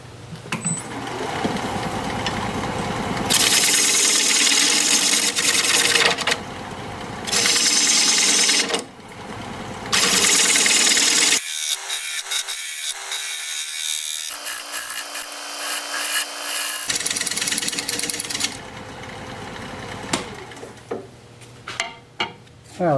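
Loud, steady whirring and scraping of a tool cutting into wood on a lathe, rounding over a bowl's corners, in bursts with brief pauses, then quieter rough rubbing toward the end.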